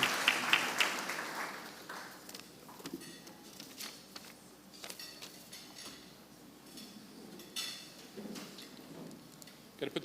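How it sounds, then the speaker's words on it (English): Scattered applause for volunteers at a city's annual State of the City event, light and uneven with clinking and patter, swelling at the start and fading to sparse claps. "And now a round of applause for all of our volunteers tonight."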